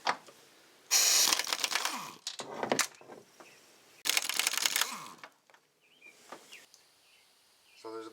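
A 13 mm socket works the upper strut mount bolts loose on a 2008 Malibu, with bursts of ratcheting clicks and metallic clatter separated by quieter pauses, close and fairly loud.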